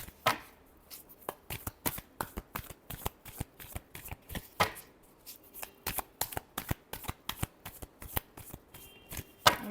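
Tarot cards are shuffled by hand close up, a quick run of sharp papery slaps and riffles in an uneven rhythm, with short pauses between bursts.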